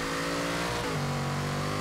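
A 1970 Chevy Chevelle V8 in Forza Horizon 3 accelerating at full throttle, a loud, continuous, close engine roar whose pitch shifts once partway through.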